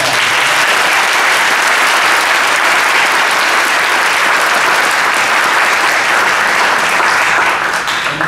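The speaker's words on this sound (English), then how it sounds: "Give them another round of applause." A church congregation applauds graduates during Sunday worship with loud, dense, sustained clapping that fills the room steadily for about eight seconds without letting up.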